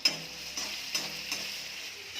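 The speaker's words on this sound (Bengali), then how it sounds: "আলু ফ্রাই করে দিচ্ছি।" Potatoes frying in a pan make a steady soft sizzle, broken by a few light clicks or stirs at intervals, fairly quiet and with no one talking.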